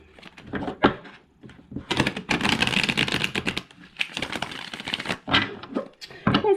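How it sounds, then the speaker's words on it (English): A deck of tarot cards shuffled by hand in close, irregular bursts of riffling and flicking with short pauses between them. "I'll give the cards a good shuffle to start us off."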